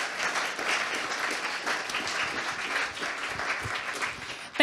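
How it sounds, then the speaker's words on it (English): Conference audience applauds an expert panel at the GFFA 2025 forum, a dense, even round of clapping from a large room that holds steady throughout and ends with a brief bump. "applause, please, for this great perspectives"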